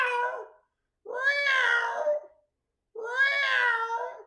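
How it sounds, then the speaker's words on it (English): A cat gives three drawn-out, loud meows separated by brief silences, each rising and falling in pitch, close and clear with no talking. "Somebody's kitty cat get away"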